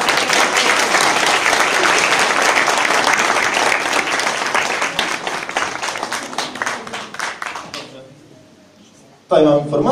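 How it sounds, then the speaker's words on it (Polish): Audience applause at a Polish painting auction, a loud, dense round of clapping that thins into scattered claps and fades out, then a voice begins speaking. "Brawa dla Pana."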